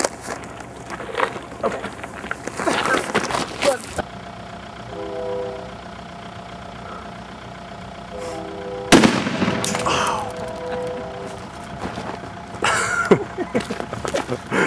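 Dry ice bombs go off with sharp, loud bangs, including one clear burst near the middle. Lighter cracks and thumps are heard outdoors over a humming engine-like drone and handling noise.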